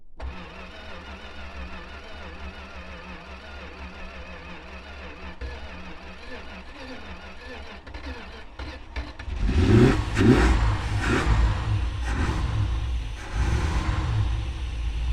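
A 440 engine whose carburetor needs cleaning idles in a low background rumble, then catches and roars up loudly around the midpoint, revving roughly and staying loud to the end.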